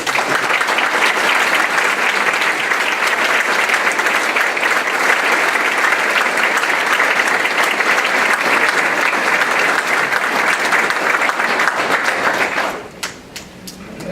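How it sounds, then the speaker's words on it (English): Fire academy recruits at a graduation ceremony give the academy staff a loud, steady round of applause. The clapping holds for about thirteen seconds, then breaks off into a few scattered claps. "could you please stand and give your round of applause from the recruits"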